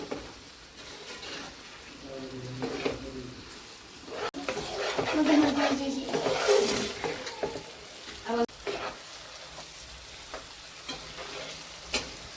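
Paneer tikka masala gravy sizzles and fries steadily in a pan after yogurt is stirred in, with stirring scrapes and a louder burst of bubbling midway; no talking.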